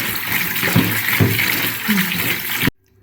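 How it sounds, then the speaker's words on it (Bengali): Water running and splashing steadily while cut morola fish are washed, a continuous close wash of liquid with faint voice under it, ending abruptly. "এইভাবেই আমি এই মাছ কেটে ধুই।"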